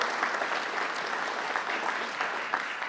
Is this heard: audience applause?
yes